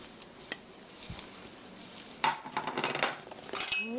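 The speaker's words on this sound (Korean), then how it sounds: "팬에 송송송 썰어 놓은 파 넣어 주시고요" Sliced scallions tipped into a frying pan for a Korean stir-fried pork with tomato, landing with a loud clattering rush of pan and utensil noise after a few quiet taps, no talking.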